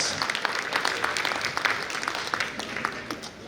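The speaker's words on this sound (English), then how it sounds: "Please give him a round warm of applause." Warm audience applause at a Kerala Samajam golden jubilee celebration in New York, a steady dense patter of many hands clapping at moderate volume, filling the room throughout with no talk over it.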